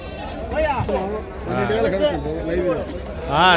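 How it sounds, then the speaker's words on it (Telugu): Goats bleat at the Gudur livestock market, their wavering cries rising over and mixing with close, busy crowd chatter, with a louder bleat near the end. "గొర్రెలు కాదులే మేకలు"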